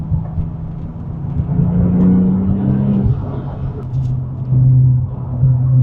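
A Porsche 996 Turbo on the move, its engine droning steadily with rising and falling pitch as it accelerates and shifts, close and continuous throughout.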